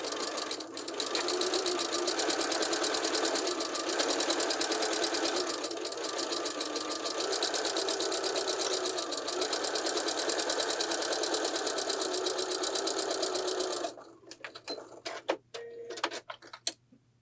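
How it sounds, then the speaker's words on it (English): A sewing machine stitching quilt block pieces runs in a fast, steady whirring rattle for about fourteen seconds, close and loud, then stops, followed by a few small clicks and handling sounds. "Grab your next one and continue sewing."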